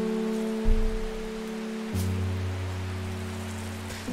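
Steady rain from the video game Strange Horticulture falls as a soft, even wash of noise, with low tonal game music humming beneath it throughout and no talk.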